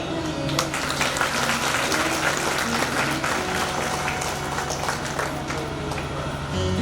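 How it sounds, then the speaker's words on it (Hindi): A large audience at a Bhagavat Katha gathering claps for itself, dense continuous applause from many hands filling the room at full loudness throughout. "एक बार अपने लिए ताली बजाओ।"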